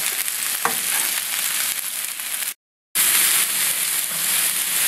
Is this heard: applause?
no